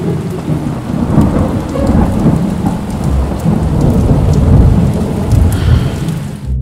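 Heavy rain pours steadily with rumbling thunder rolling through, a dense, loud storm wash with no voices.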